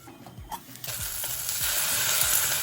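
Spices fry in oil in a pan for Gujarati chevti dal, a bright sizzle that rises and holds steady while a utensil stirs with a few soft scraping strokes, close and alone.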